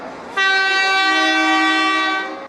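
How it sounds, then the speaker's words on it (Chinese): A Taiwan Railway local train arriving at Jiji station in Nantou sounds one long, loud, steady horn blast lasting about two seconds, close by and alone. "火车驶过来"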